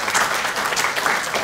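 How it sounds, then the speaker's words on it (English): A brief, steady round of audience applause for Professor April Logan at a university gathering, with dense, even clapping from many hands filling the room. "Everyone, please give April a round of applause for her service."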